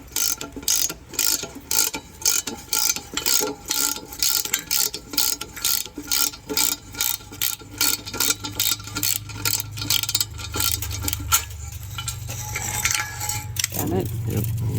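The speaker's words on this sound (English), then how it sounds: "I'm gonna break them spark plugs off" Ratchet wrench clicking rapidly and steadily on an engine while breaking loose old rusted spark plugs, with loud close repeated pawl clicks, then a low mechanical grind near the end.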